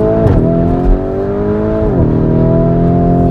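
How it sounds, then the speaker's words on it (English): Lamborghini Urus twin-turbo SUV engine pulling hard under acceleration, a loud, close, continuous roar rising in pitch, dipping briefly at a gear change and then climbing again. "It really doesn't sound twin turbo either."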